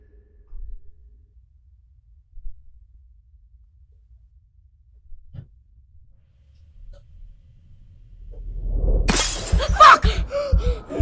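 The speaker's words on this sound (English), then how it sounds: "My kid just spilled a glass." A drinking glass dropped and shattering after being spilled by a child, a sudden loud crash with scattering shards bursting out of near silence, following faint earlier rustles and thumps.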